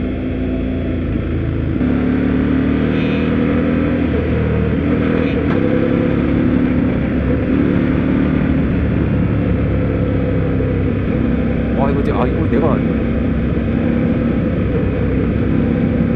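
An Indian Scout Bobber motorcycle engine drones steadily while riding, a muted, even exhaust note with constant wind rush throughout; someone speaks briefly over it.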